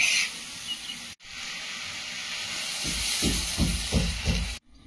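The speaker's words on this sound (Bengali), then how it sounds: "শাকটা কমে একদম আলুর গায়ে লেগে লেগে গেছে, এবার একটু জল দিয়ে দেবো।" Water poured into a hot pan of potatoes and wilted greens bursts into a loud, steady steam hiss that runs for several seconds, with bubbling pulses rising near the end before it cuts off.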